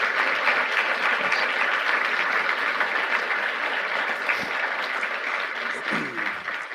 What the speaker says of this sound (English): Give Jason a round of applause and your thanks for doing this.